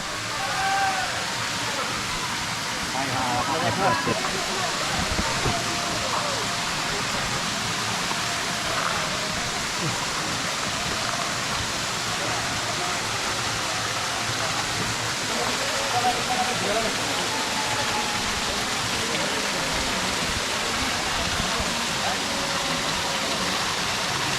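Steady broadband rush of Muppochhara waterfall in Bilaichhari, Rangamati, a continuous loud wash of falling water that fills the whole clip with no breaks.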